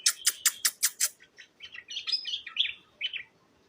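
A bulbul sings up close with no talk: a quick run of sharp, evenly spaced chirps, then a looser string of bright warbled whistles and trills.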